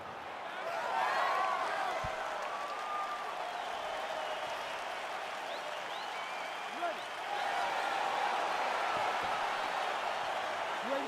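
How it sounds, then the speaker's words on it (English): Arena crowd noise in the EA Sports UFC 4 video game as a fight begins, a steady loud roar of cheering and applause with scattered whistles, swelling slightly toward the end. "crowd getting excited as this fight gets underway"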